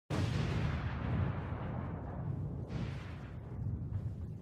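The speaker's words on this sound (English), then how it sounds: "This explosion is fake." A CGI explosion from a MrBeast outro segment: a loud, sustained roaring blast with deep rumble lasting several seconds, with a fresh burst of crackle partway through, no voices.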